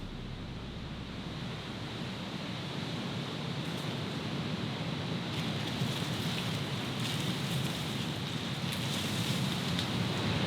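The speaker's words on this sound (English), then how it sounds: "The rain has a way of coming in at the worst times, right in the middle of the night." Steady rain falls through the night on a shipwreck island, a dense, unbroken hiss that slowly swells over ten seconds with no voices.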